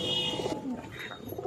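Pigeons held for sale, Nagercoil breed in Trivandrum, give a few faint, soft coos against quiet background noise.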